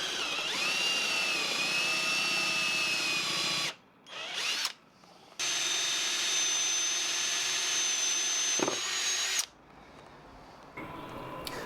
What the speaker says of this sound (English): drilled shallow holes with a Forstner bit to hide the heads, and then I followed this up with a pilot hole.